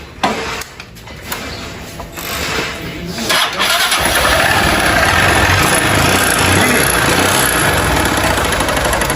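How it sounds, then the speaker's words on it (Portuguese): A 160cc motorcycle engine with a noisy internal fault cranks, catches after a few seconds and then runs steadily with a loud, rough mechanical clatter up close. "liga aqui, só pra gente ouvir o barulhinho"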